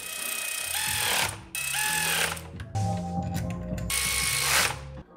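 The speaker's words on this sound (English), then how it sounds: "Gonna be using this fancy 3/8 torque wrench right here" A 3/8 torque wrench ratchets on a BMW E39 engine bay, giving several close, steady runs of rapid clicking separated by short pauses, with no talking.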